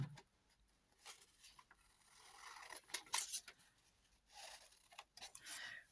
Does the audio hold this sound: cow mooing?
no